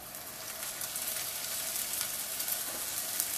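Scallion and egg flatbread frying in a hot pan gives a steady, close, even sizzle that runs the whole time with no voices over it.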